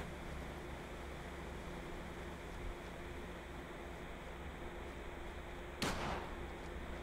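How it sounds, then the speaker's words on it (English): Distant gunshot in Fallout 4 video game, a single sharp crack near the end rising out of a faint, steady ambient noise bed. "If you listen closely, you will hear the gunshot."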